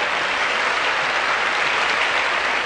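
Steady applause from a large audience at the Miss Universe 1988 pageant fills the space, dense and continuous with no voices standing out.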